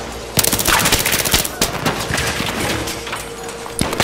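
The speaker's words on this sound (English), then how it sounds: "Aw, it's just a shotgun." Gunfire in the video game Battlefield 3, from a shotgun, cracks out in loud, sharp bursts of rapid shots over a busy battle din, the blasts bunching together and then thinning toward the end.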